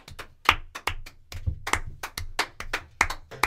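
A small group of people clapping together at the close of a casual show, sharp irregular claps close by, no voices.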